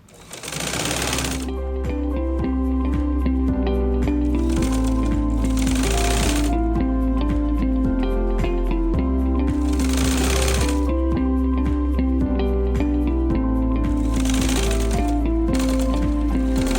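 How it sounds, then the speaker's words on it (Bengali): A sewing machine stitches denim from old jeans into a hat, its rapid needle chatter running steadily and close for the whole stretch, with brief surges and slowdowns between bursts of sewing. "খুবই তাড়াতাড়ি কাপড় সেলাই করে রেডি হয়ে যায়"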